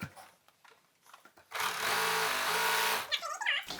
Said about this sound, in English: let me go ahead and serge the top first